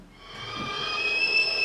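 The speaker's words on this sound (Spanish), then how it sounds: "El vapor que emite una tetera cuando la ponemos al fuego." A kettle heating on the fire gives off a rising steam hiss that sharpens into a steady, high whistle, growing louder toward the end with no voices over it.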